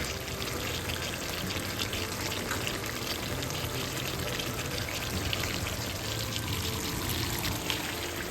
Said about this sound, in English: Add the roasted coconut.